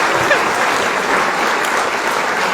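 An audience claps in a steady, dense patter that fills the whole stretch at even loudness, with no clear voices on top.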